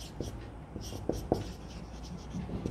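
Chalk or marker scratching on a board as a teacher writes during a chemistry lesson, a run of short irregular strokes with a few sharper taps, close and fairly quiet.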